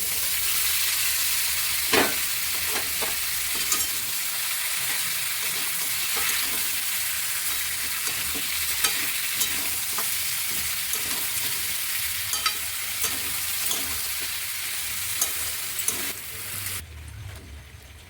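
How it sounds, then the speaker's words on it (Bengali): Boiled mutton stir-fried in a pan for Kashmiri mutton, a continuous loud sizzle broken by frequent scraping and stirring clacks of a spoon against the pan, close by. "এবার সিদ্ধ করে রাখা মটনটা দিয়ে দেব।"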